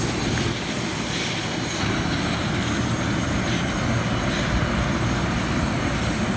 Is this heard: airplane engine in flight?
yes